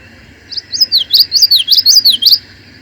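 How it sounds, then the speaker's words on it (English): Common yellowthroat song near water: a bright, rapid series of rising-and-falling whistled phrases repeating for about two seconds, close and clear over a faint low background hum. "If you're walking along water and you hear a witchery, witchery, witchery, it's probably a common yellowthroat"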